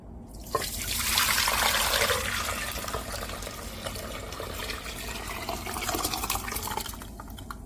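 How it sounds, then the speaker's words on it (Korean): Prepared pumpkin water poured into a cooking pot for pumpkin sikhye, a steady, close, gushing splash that swells early and then settles into a continuous trickling rush until the end. "준비한 호박물을 부어 주실게요"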